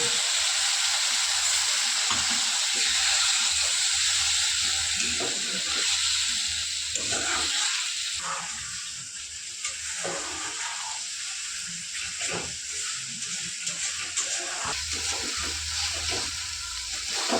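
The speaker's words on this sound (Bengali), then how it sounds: "এখন এই যে রয়েছে মশলা জল, সে মশলা জলটা মিনু দিয়ে দিচ্ছে।" Spiced masala water is poured into frying masala in a pan, giving a steady loud sizzling hiss that rises at the start and then churns on with bubbling bursts.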